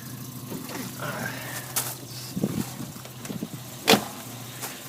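A cold 1973 Volvo 142 with a 2-liter engine runs at a raised idle on the choke, a steady low hum close by, broken by a few clicks and thumps.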